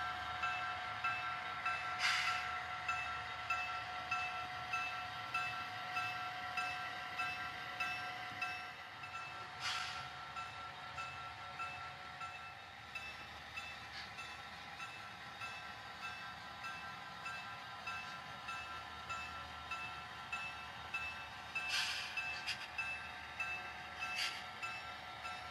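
A Conrail model railroad locomotive pulls a string of empty cars on a shelf layout, a faint steady hum with soft rhythmic clicks of wheels over rail joints and occasional brief squeals.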